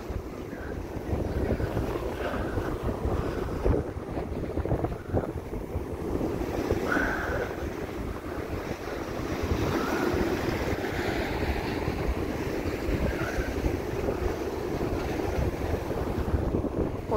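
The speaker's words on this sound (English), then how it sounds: "the waves and that, and yeah, the wind noise and everything." Sea waves and gusting wind on the Blackpool seafront, a continuous close roar with heavy wind buffeting against the microphone and surf washing steadily underneath, with no voices.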